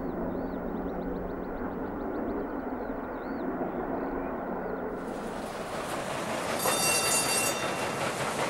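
A King Edward I class steam locomotive hauls a train at speed, a steady, rumbling roll of wheels on rails with rushing noise that swells louder and brighter toward the end as it passes near.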